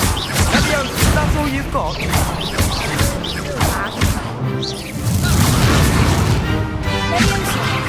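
Repeated Confringo blasting spells go off in the Hogwarts Legacy video game, loud booming impacts and crashes packed close together through a magic duel, with a voice talking over the fighting.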